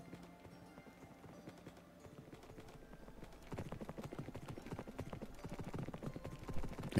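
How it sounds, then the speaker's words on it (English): Horse hooves clip-clop in Minecraft Dungeons, a steady run of light clopping that grows louder and busier partway through, with game sounds layered underneath. "Oh, horsey. We'll take it."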